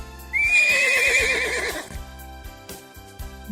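A horse gives a loud, quavering whinny that rises and then wavers downward, followed by a few soft thumps.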